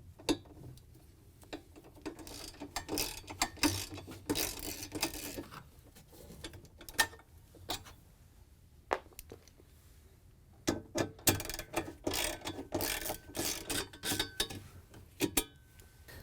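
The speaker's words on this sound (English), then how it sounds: "We're going to use a 10mm socket to remove the screws that hold it in." A 10mm socket ratchet clicks in quick bursts while backing screws out of a bracket on a Samsung washer, with close, sharp ticking runs separated by short pauses.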